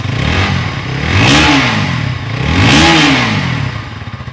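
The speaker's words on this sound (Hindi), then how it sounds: "अभी सुनाते हैं दोनों बाइक का एग्जॉस्ट नोट। सबसे पहले KTM 160 को करते हैं ऑन।" A KTM 160 Duke motorcycle runs close by, idling with a throaty exhaust note that rises twice in short revs before settling back down.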